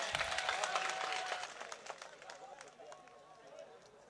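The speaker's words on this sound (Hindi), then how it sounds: "मैं चाहूंगा एक बार जोरदार तालियां बजा करके उनका सम्मान किया जाए।" Crowd applause at a public gathering or rally honouring a speaker, dense and loud at first, then gradually thinning and fading over a few seconds.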